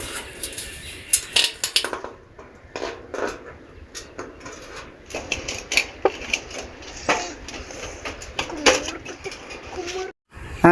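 An iron sheet is cut by hand for a metal dustpan tray, producing irregular close metallic snips and scrapes. Intermittent talk runs between the cuts.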